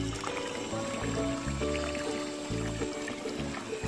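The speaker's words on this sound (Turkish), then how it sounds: "Çeşme." A village fountain in the Swiss Heidi village pours a steady, close stream of water, with a continuous splashing rush and gurgling that runs unbroken throughout.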